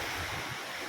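Big ocean waves surge at Jumeirah Beach in Dubai, a broad continuous wash of surf mixed with wind noise, loud and close, with no voices.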